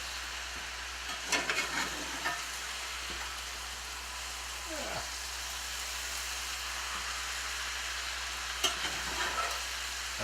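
Bok choy leaves stir-fried in a hot pan give a steady, even sizzle throughout, with occasional scraping and tossing sounds as the greens are mixed.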